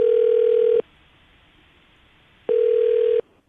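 A telephone line sounds two steady electronic tone bursts while a call is being placed, each lasting under a second and separated by a long quiet gap, clear and loud with nothing else around them.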